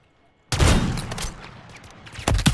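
A loud, close shotgun blast from a duck hunt bursts out after a quiet moment and is followed by a ringing decay, then a second sharp report near the end.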